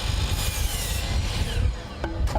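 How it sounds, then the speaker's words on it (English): A continuous table saw buzzes steadily through wood at close range, with a low rumble underneath and a couple of brief sharp knocks near the end. "The buzz of a table saw."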